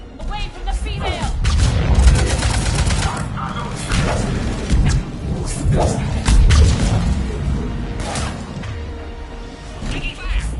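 Dense gunfire from a firefight in Mass Effect 3, bursts and cracks piling up continuously over a loud, busy battle bed with shouted voices mixed in throughout.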